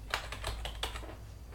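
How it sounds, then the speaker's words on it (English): Keys tap on a computer keyboard in a short, quick burst of about half a dozen light clicks, close but quiet, with no talk. "I'm going to type in fucking hard riddle."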